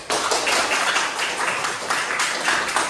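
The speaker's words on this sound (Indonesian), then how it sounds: "tepuk tangan sama kita semua karena masih ingat pembelajaran sebelumnya" Steady, dense clapping from a class fills the whole stretch, fairly loud and continuous with no voices over it.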